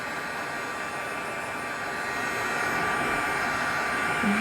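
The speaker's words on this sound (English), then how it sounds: "This is an old hair dryer." An old hair dryer blows steadily nearby with a constant whooshing roar and a faint motor whine that gets a little louder toward the end, with a brief voice at the very end.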